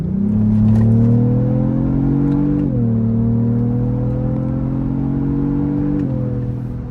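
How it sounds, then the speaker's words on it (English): A 2025 Lexus GX 550 V6 engine in Sport Plus mode heard from inside the cabin, revving strongly and holding high, with brief gear-shift dips in pitch. "what does a V6 engine sound like?"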